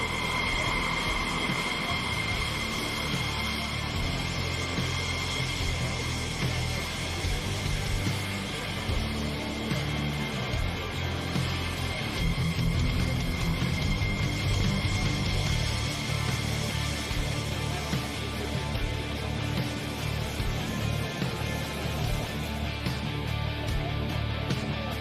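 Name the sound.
aerobatic airplane engine during power aerobatic routine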